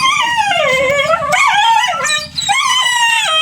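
Pet dogs howling loudly and close, long wavering wails with yips and whimpering cries overlapping through the whole stretch.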